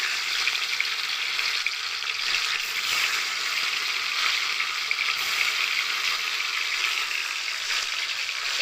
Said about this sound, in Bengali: এবার আমি দিয়ে দিচ্ছি পনিরগুলো, হালকা করে ভেজে নেব